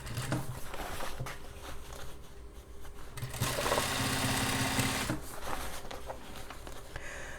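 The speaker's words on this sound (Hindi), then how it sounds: "इसको हम स्टिचिंग करते हैं" Sewing machine single-stitching the hem of jeans into ankle length, a close mechanical whir in several bursts with a louder, denser run in the middle.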